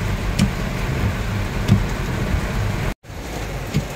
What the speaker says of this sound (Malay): Hujan lebat petang.